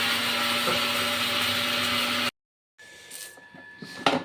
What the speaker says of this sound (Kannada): ಇವಳು ಮಿಕ್ಸಿ ಆನ್ ಮಾಡವಳೆ.